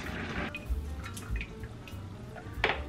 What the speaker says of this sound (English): So now we need to drain the water and let some in the pot.